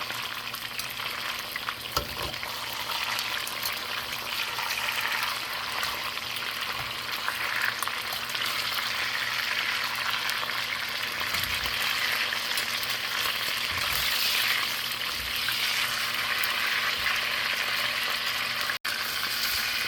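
Chicken pieces for chicken cacciatore sizzle and fry in a pan, a loud, continuous crackling hiss broken by a few soft stirring or shifting sounds.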